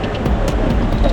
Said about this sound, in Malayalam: അങ്ങനെ നമ്മുടെ ട്രെയിൻ കറക്റ്റ് 8:05 ആയപ്പോൾ ഡിപ്പാർച്ചർ ചെയ്തു